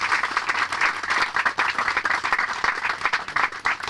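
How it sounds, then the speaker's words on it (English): An audience applauds Boys and Girls Club kids and staff at a garden project event, giving dense, steady clapping from many hands that lasts throughout without pause. "Let's hear a little round of applause for you guys."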